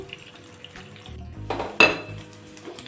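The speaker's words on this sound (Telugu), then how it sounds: "అన్నీ తిరగబెట్టుకుని వేపుకుందాం. 2 వైపులా వేపుకుందాం." Pieces of taro paneer are flipped and fried in a pan, with a few light clinks and scrapes, a louder knock near the middle, and a soft sizzle underneath.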